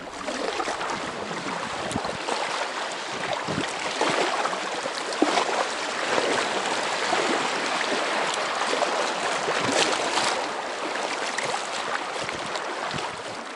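Rushing river water flows steadily and fairly loudly in the Bob Marshall Wilderness, Montana, a continuous broadband wash with occasional splashes and no voices.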